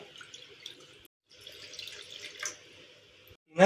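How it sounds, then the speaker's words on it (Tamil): Water runs and trickles into a pan on a home kitchen stove, a soft steady pour with a brief pause, then a louder splash at the end. "அடுத்ததாக ஒரு பேனில் ரவை எழுந்தால் அதே கப்பில் 1/2 கப் அளவுக்கு தண்ணி சேர்த்துக்கலாம்."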